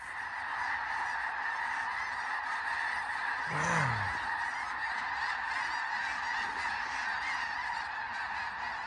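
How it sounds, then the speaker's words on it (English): A dense flock of migrating geese passing overhead outdoors along a long-distance hiking trail, a continuous overlapping chorus of honking calls that stays loud and steady throughout with no talk. "Y'all think we're on a migration path or something? That's all birds."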